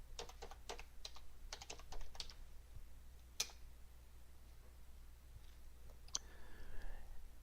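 Quick bursts of keystrokes clatter on a computer keyboard, with a few isolated clicks afterward, close and fairly quiet over a low steady hum.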